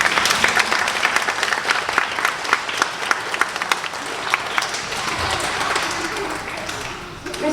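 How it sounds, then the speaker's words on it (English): A school award assembly audience of children and adults claps for a class, lively uneven applause with sharp individual claps standing out, continuing throughout. "Please give 1-2P a clap"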